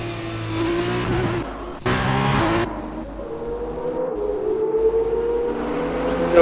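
F2 race car in the 2021 Austria round of a racing video game, taking turn 3 with a droning engine whine that shifts pitch through gear changes, a brief louder burst, then revving again toward the end.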